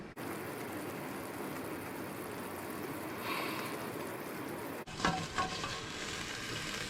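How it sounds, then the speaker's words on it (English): Chicken feet boiling in a covered pot of water give a steady, dense bubbling hiss throughout. A sharp shift near the end brings brighter, clattering bursts. "Once it gets back up to the boil."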